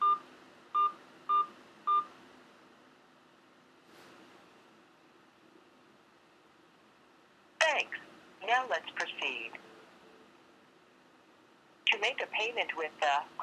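Verizon prepaid phone keypad tones entering a four-digit account security code: a short run of four clean, evenly spaced beeps up front, then a recorded voice speaks in bursts after a quiet pause.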